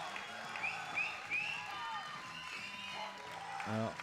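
A large crowd cheers and applauds at the World Open Equipped Powerlifting Championships in Stavanger during the men's 74 kg class, with sustained clapping, whoops and whistles filling the hall beneath ongoing commentary.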